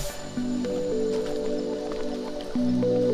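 Steady water flow of a small stream being crossed on a hike to a waterfall in Labrador, Pangasinan, a continuous close rushing wash with a faint tonal hum running through it.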